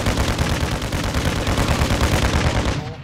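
Rapid sustained gunfire fired from a vehicle in a video game, a dense loud rattle of shots running without pause for a few seconds.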